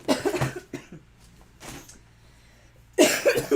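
Harsh coughing fits close to the microphone, one at the start and another at the end, with a couple of smaller throaty sounds in between.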